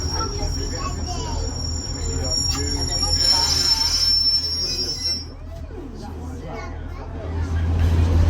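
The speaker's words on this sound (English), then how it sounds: "Train now approaching Butterley." A Pacer railbus runs along a heritage railway, its wheels squealing on the rails and a diesel rumble rising and falling as it approaches a station, heard from inside the carriage, with an onboard announcement voice speaking over the noise.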